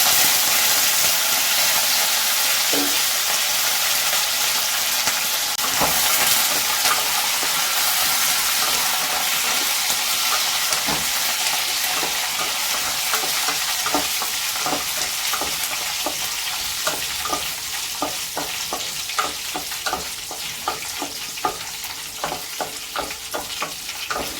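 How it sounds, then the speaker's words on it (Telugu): Garlic, dried red chilies and curry leaves frying in hot oil with mustard seeds and chana dal, a loud continuous sizzle with crackling pops and occasional stirring scrapes, close up and without voices. "ఇప్పుడు ఎల్లుల్లిపాయలు వేస్తున్నాను, ఎండుమిరపకాయలు, కరివేపాకు"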